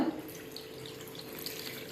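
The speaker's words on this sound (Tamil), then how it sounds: "ஒரு டம்ளர் அளவுக்கு தண்ணி விட்டுருக்கு" Steady running water with a light splashing texture, water being poured into a pressure cooker of kuzhambu with turmeric and salt, continuous for a couple of seconds with no voices.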